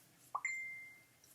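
A short electronic phone notification chime rings out: a quick rising blip followed by a sustained tone that fades out, heard alone in a quiet room.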